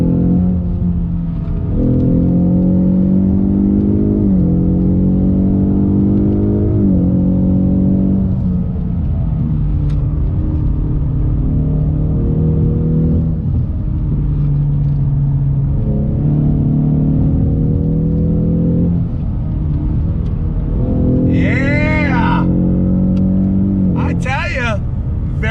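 A 2020 Ford Mustang EcoBoost High Performance Pack accelerates through several gears, its exhaust rising in pitch with each pull and dropping at shifts, loud and close inside the car, with a voice speaking briefly.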